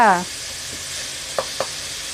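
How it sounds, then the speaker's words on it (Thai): Thai moo yor pork sausage dropped into a pan of cooked minced pork, with a brief tonal clatter at the start, a quiet steady sizzle, and two short stirring scrapes near the end. "หมูสับสุกแล้ว เอาหมูยอลงค่ะ"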